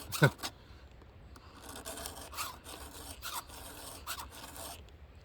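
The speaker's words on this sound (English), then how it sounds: "we'll just go one end to the other and give this thing a quick scuff" A surface gets a quick scuff from one end to the other, giving a run of dry rasping strokes at moderate level, opening with a sharp scrape and continuing in steady back-and-forth rubs with no talk.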